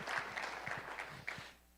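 Scattered applause from a tourism summit audience on Galveston Island, several distinct hand claps close by that thin out and fade within a couple of seconds.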